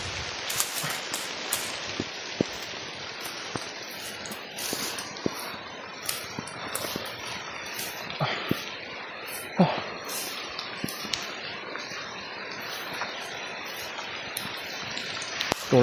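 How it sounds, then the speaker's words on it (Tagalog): Heavy rain pours down outdoors during a survival trek, a dense, steady hiss with scattered louder drops and patters throughout, no voices standing out. "Lakas ng ulan."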